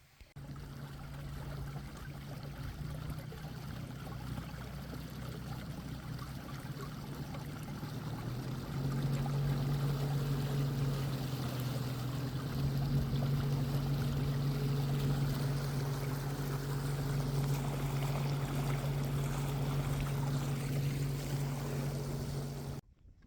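Torqeedo Ultralight electric outboard motor driving a fishing kayak on water, a steady low hum under rushing, trickling water that grows louder partway through, then cuts off, with no voices.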